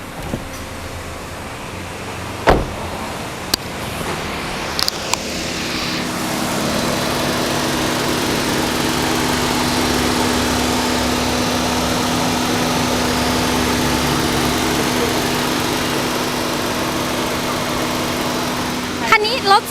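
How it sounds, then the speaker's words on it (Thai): A Nissan Almera 1.2 eco car engine cranks and catches after a few clicks, then settles into a steady, even idle that runs on loudly and close up. "เดี๋ยวลองสตาร์ทให้ฟังเสียงหน่อยดีกว่าว่า เสียงรถเป็นยังไงเดินเรียบไหม"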